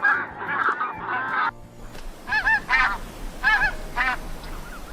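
Geese honk in short repeated bursts, a cluster of calls early on, then two more separate bouts of loud, nasal honking against outdoor background noise.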